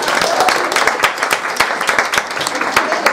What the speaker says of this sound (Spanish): vamos a darle un aplauso a Alba.